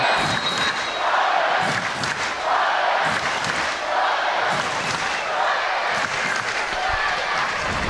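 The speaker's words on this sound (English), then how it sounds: "Just listen to the crowd, Daniel." A large indoor crowd at a British Basketball League Championship game between the Riders and Newcastle Eagles roars and cheers continuously, rising in waves with stomping and clapping that echo through a big arena.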